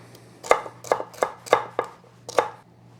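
A knife chops celery ribs on a cutting board in six crisp, close strikes at an uneven, unhurried pace, each a sharp crunchy thud against quiet background hum.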